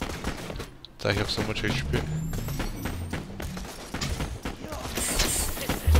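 Rapid gunfire in the shooter game Borderlands: The Pre-Sequel, a dense steady clatter of shots and effects running throughout, with someone talking over it.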